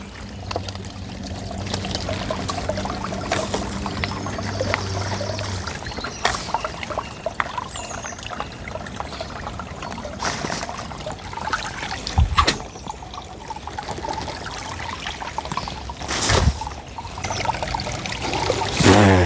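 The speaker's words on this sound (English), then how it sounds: "We are back at the swamp waterfall, little waterfall over here." A small swamp waterfall trickles and pours steadily at Edgbaston Reservoir, a continuous close splashing with occasional louder knocks and no talk.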